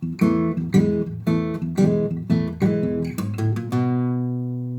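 A low plucked bass guitar line bounces in a blues shuffle rhythm, then a quick triplet fill ends on a held, ringing low note.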